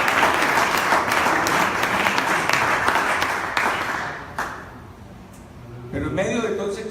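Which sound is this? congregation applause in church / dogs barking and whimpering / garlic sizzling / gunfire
congregation applause in church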